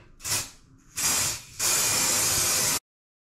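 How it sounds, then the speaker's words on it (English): A can of hairspray hisses in three close bursts, a short one followed by two longer blasts, the last ending abruptly into silence. "So I've got some hairspray. I spray it on."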